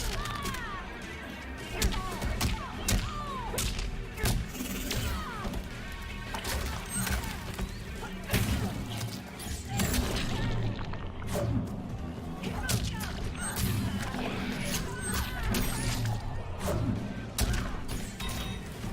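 Baraka and Scorpion fight in Mortal Kombat, landing a rapid string of loud thumps, whacks and crashing hits over busy game sound effects, with impacts packed closely across the whole stretch.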